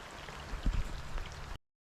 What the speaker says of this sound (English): So it's not a heavy rain yet.